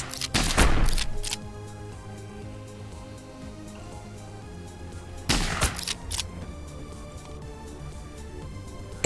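Gunfire bursts in the video game Heart of the Machine, with two loud volleys of rapid shots separated by a quieter stretch of low game sound and no talk.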